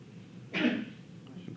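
A single sharp sneeze bursts out in a quiet classroom, short and breathy, then fades back to faint room noise.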